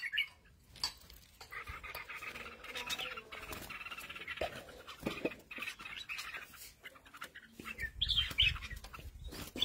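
Red-whiskered bulbuls chirp with short, bright calls scattered across about ten seconds, some close and sharp, others softer, over a faint background rustle with no talking.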